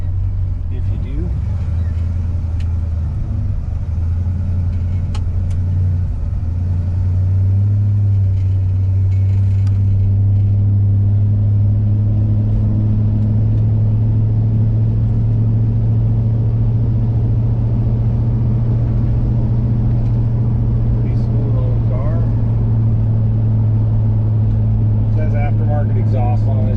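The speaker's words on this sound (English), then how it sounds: "Exhaust on it, so you can hear that a little bit in the back." A 1960 Dodge Dart Phoenix idles with a steady, deep exhaust rumble, a continuous low drone heard close by for nearly half a minute, with someone talking over it at times.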